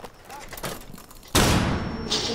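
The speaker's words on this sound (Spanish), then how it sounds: "¿Qué es esto que tengo? Disparos." Gunfire in Rainbow Six Siege: faint scattered game sounds give way to a sudden loud burst of shots and a harsh blast that carries on to the end of the short clip.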